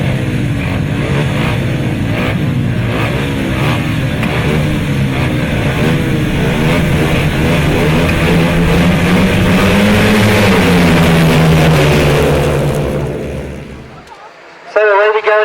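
Grasstrack racing motorcycles at the British Masters roar off the start and sweep past close by, engines rising and falling in pitch together, under a loud commentator's voice, then cutting off sharply near the end.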